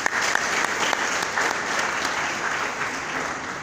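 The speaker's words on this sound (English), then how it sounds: "Shall we give the sponsors a round of applause?" An event audience in Ghana gives the sponsors a round of applause: a full, continuous roar of many hands clapping at an even level throughout, with no talk over it.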